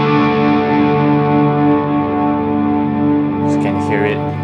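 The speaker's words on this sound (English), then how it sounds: "The reverb is just going on its own." A sustained, shimmering guitar chord held by a reverb pedal's hold function drones on its own with heavy reverb, steady and loud, with a brief high chirp near the end.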